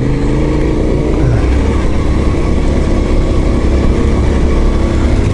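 Yamaha Ténéré 700 motorcycle ridden off-road on a technical trail, its engine droning steadily and loud throughout with a low, rumbling tone and no voices over it.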